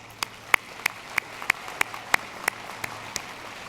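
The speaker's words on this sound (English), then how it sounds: "Another round of applause." About ten sharp, evenly spaced claps ring out one by one at a slow steady rhythm during a college commencement ceremony, with no crowd noise around them.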